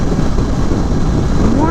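Steady, loud wind roar buffets the microphone while riding a 2017 Triumph Bonneville motorcycle at highway speed, a dense continuous rush with a faint rising engine tone near the end.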